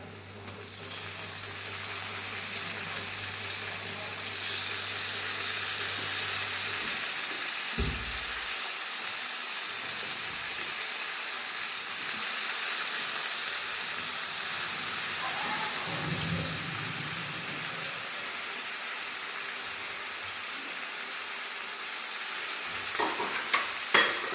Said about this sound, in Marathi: कांदा चांगला गोल्डन कलर येईपर्यंत मंदाचेवर आचेवर परतून घ्यायचा